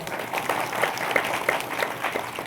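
Applause from the audience at a Hari kirtan, a steady patter of many hands clapping at moderate distance that carries on throughout, with faint crowd murmur underneath.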